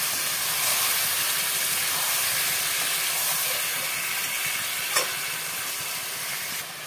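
Marinated chicken frying with browned onions in a pan, giving a loud, dense, hissing sizzle that holds steady throughout, with a single brief clink partway and no talking.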